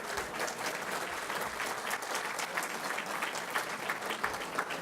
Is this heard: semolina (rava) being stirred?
no